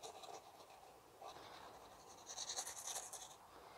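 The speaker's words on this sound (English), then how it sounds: "you carefully just get a sharp knife and you cut around" A sharp knife scoring around the middle section of a puff pastry vol-au-vent case, giving soft scratchy cutting strokes in two bursts, the second louder and crisper, heard close with no talk.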